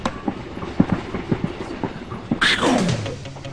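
A passenger train running at night, heard from inside a sleeper coach with berths, giving a rhythmic clickety-clack of wheels over rail joints and a brief rising whine near the end.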